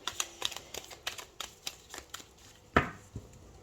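Tarot cards riffle and slap together in quick bursts of shuffling, followed by a sharper snap as the deck is cut, close and unaccompanied by speech.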